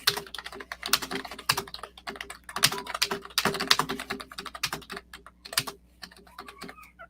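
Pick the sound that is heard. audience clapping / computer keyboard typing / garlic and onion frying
computer keyboard typing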